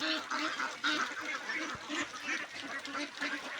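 Ducks on a farm holding about five hundred birds keep up a dense, continuous chorus of overlapping quacks, loud and close, with no pauses across the whole stretch.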